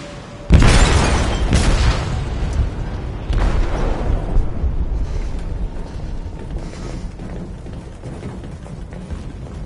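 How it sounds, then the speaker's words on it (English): An explosive detonates in a ship's hold in the game Detroit: Become Human: a sudden loud boom followed by a long rumbling roar, a second blast surging about three seconds later, then debris and rumble slowly fading. "They detonated an explosive in the hold."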